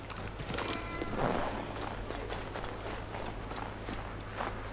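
Horse hooves clip-clopping in the video game Assassin's Creed 3, a steady moderate patter of hoofbeats under a low constant in-game hum, with no talking.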